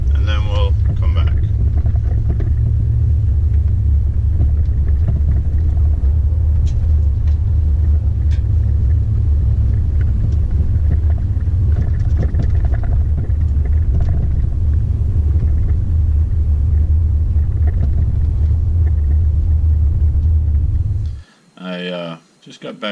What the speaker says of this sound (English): I'm just going to drive down to the end of my street and see how that works